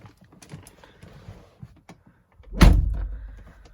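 The door of a 2013 BMW X5 xDrive35i Premium shuts with one loud, solid thump after soft handling clicks, close by, its low boom fading quickly.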